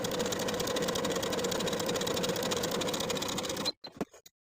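Sewing machine running a long gathering stitch along the top edge of a ruffle piece for a tiered dress, a steady close whir that stops abruptly, followed by a few brief handling clicks.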